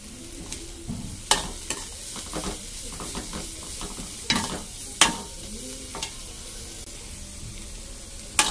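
A mixture seasoned with pepper and salt fries gently in a pan, with a soft steady sizzle and repeated sharp clinks and scrapes of a spoon stirring.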